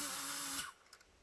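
Hubsan Zino Mini SE drone landing, its high, steady rotor whine running loud for about half a second before cutting off abruptly, leaving near silence with a few faint ticks.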